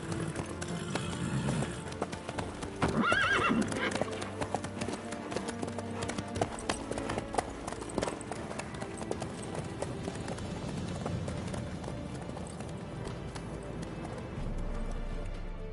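Horse hooves clip-clop steadily at a trot through a video game scene, a moderately loud, even rhythm layered over game ambience and music, without talk.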